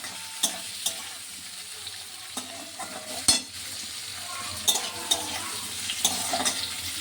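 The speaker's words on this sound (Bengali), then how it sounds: "একটু ভাজা হোক" Capsicum fries in a pan, a steady sizzle broken by irregular scraping clicks and knocks as it is stirred, close and fairly loud, with no talking.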